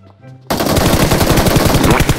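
Sustained automatic gunfire in Game for Peace (PUBG Mobile), loud rapid shots bursting in after a brief quiet start and continuing without pause.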